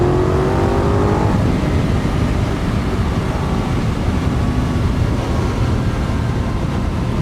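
A Benelli 752S motorcycle engine revs and accelerates, loud and close, a steady roaring drone with a rising whine early on, then a dense sustained rumble throughout.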